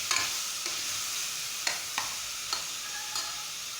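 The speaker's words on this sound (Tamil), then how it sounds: "போட்டு நல்லா கிளறி விட்டுக்கலாம்." A spoon stirs mint leaves into chicken gravy frying in a pan, giving soft scraping strokes and occasional knocks over a continuous bright sizzle, close up and without talk.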